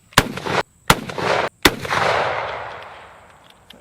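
Three loud, close carbine rifle shots ring out in quick succession, each a sharp crack followed by a rolling echo that fades slowly after the last one.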